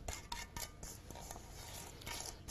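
A spoon stirs sugar and egg into a sweet paste, giving quick scraping strokes and light clinks against the bowl, faint and close with a steady background hiss.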